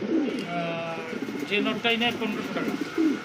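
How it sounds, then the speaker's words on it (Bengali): Pair of big-sized male pigeons in a market, cooing in soft repeated murmurs beneath steady close male speech. "এক জোড়া দুই পিস বিউটিমা কবুতর"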